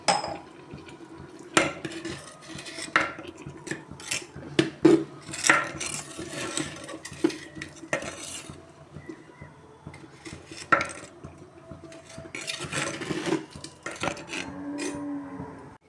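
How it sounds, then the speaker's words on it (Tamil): Jaggery being stirred into pongal in a pot, with a spoon clinking and scraping against the metal in an irregular rhythm of close, sharp knocks and no talking. "சேர்த்து நல்லா கலந்து விட்டுக்கலாம்"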